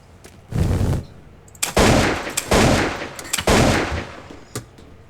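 Gunfire in the building-destruction game Teardown at a marina: several loud bursts of automatic fire in separate volleys with short gaps between them, close and dominant, with no talking.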